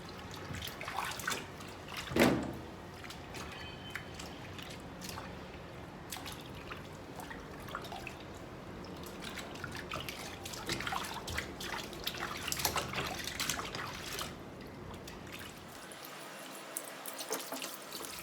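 Water and shampoo are worked by fingers through a straight/wavy raw Indian hair wig under running water, a faint continuous splashing and trickling with soft squelches and no speech.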